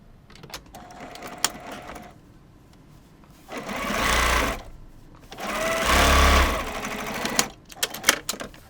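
A sewing machine stitching a French seam in fabric runs in two steady bursts of whirring needle action, close and loud, separated by quieter handling and rustling of the cloth.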